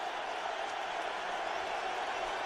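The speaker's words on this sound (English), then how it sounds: "And the crowd on its feet getting loud." A football stadium crowd at an NFL game, 49ers versus Colts in 2009, roars steadily on its feet during a third-and-long play, a dense continuous wash of cheering noise with no breaks.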